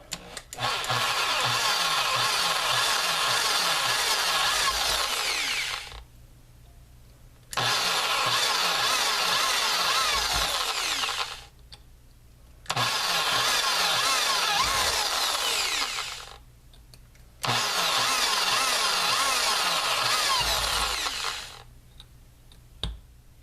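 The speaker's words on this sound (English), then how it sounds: "I'm going to drill these 5 holes." A power drill whines loudly in four long bursts of about five seconds each, separated by short pauses, with a grinding, chattering edge as it bores.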